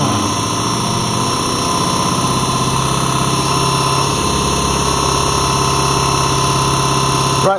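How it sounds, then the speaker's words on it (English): A diesel fuel pump for a 2016 Ford Transit, a Siemens VDO Continental unit, runs on a test bench at 1000 RPM and 1350 bar, giving a loud, steady mechanical drone with a constant whine throughout. "I'll just take it up to 1350 bar, which is generally what you normally test pumps at, or we do anyway. And we'll take it up to 1000 RPM."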